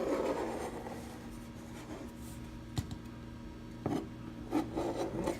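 A favorite kitchen knife cuts around pizza dough shaped into a tart, making quiet scraping and rubbing strokes with a few sharper scratches near the end and no one speaking.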